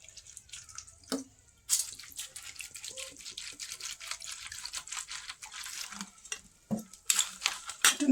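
Water poured into a bowl of puffed rice: close, thin splashing and trickling with small drips and a few louder splashes, steady and unaccompanied by speech.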